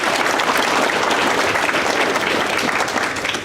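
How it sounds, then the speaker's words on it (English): A room of community members at a neighbourhood engagement meeting applauds presenters, steady close clapping filling the whole stretch and tapering slightly at the end. "So a round of applause for them."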